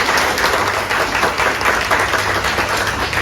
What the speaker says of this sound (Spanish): Un aplauso para Ale.